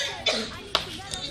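A voice imitating a sick person's cough: two harsh, close coughs about half a second apart, followed by a fainter third, amid murmured talk.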